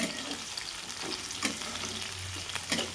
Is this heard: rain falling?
no